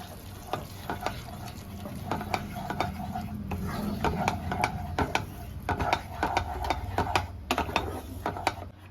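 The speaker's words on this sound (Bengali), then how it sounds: "এবার ভালো করে মশলার সাথে মিশিয়ে নেব" Yogurt is stirred into sizzling spices in a pan over a lowered gas flame, with steady repeated scraping strokes of a spoon against the pan above a low frying hiss, close and continuous.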